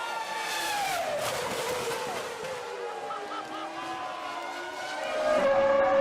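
Formula 1 cars, Hakkinen and Herbert among them, scream past while overtaking, their high engine whine sweeping downward as they pass, heard from the grandstand with crowd noise beneath.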